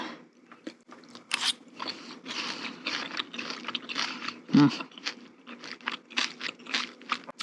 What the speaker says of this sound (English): I'm gonna have a bite now just to see where we're at. I'll try to get a little piece of walnut there